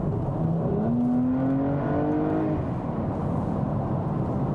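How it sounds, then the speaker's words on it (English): Porsche Cayenne S engine accelerating inside a tunnel, a steady rising engine note climbing in pitch over a few seconds, echoing and loud, with no talking. "Let's drop down in speed a little and accelerate, that we can hear the sound in the tunnel."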